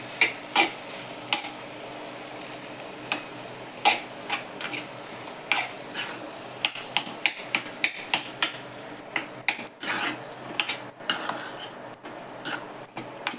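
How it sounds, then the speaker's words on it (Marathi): Samosa potato filling with a little turmeric is sautéed in a pan, giving a steady soft sizzle under repeated scraping and clinking stirs from a spatula against the metal, close and fairly quiet. "परतून घेते चांगलं, थोडीशी हळद टाकून."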